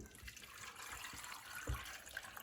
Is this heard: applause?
no